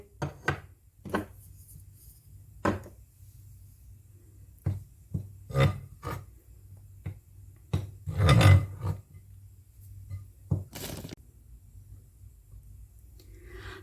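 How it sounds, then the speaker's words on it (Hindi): Flour is stirred with dry milk and salt in a bowl, giving scattered soft knocks and taps of a utensil against the bowl at an irregular pace, close by and without talk. "इसमें ड्राई मिल्क को और नमक को डालेंगे, मिक्स कर लेंगे"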